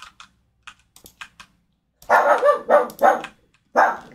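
A dog barks several times in quick succession, loud and close, after a stretch of faint clicking sounds in a quiet room; no talking over it.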